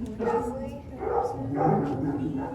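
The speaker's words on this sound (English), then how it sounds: "Now they're barking because they think it's dinner time." Guide dogs, yellow and black Labrador retrievers, barking and yipping together in a kennel, a dense continuous chorus of overlapping barks at close range with some whimpering.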